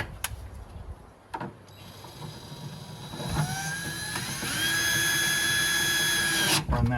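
A power drill runs a nut and bolt into place while a belt is changed on a 2022 Polaris RzR Pro R UTV, giving several short bursts and then a rising, steady whine that stops abruptly near the end.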